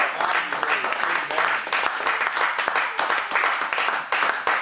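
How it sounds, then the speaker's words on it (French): A church congregation claps and cheers in praise during a service, dense, sustained applause filling the room with steady rhythmic clapping throughout. "Acclame très fort le Seigneur"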